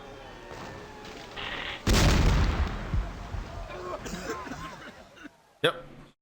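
Ship cannon fire in the Stephen Biesty's Stowaway! Windows 3.1 game: one loud booming blast that decays into rumbling crackle, followed by smaller thuds and a later sharp bang, with a person talking.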